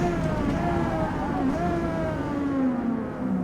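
Engine of a racing car in Forza Motorsport droning steadily and loudly throughout, with rising and falling tonal whine as it revs, while a person talks over it.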